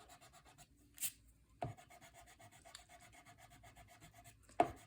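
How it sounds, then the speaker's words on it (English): A sand eraser scrubs black ink off a paper craft card in quick, soft back-and-forth rubs, close and faint, with a few sharper scrapes and taps. "so this is a sand eraser"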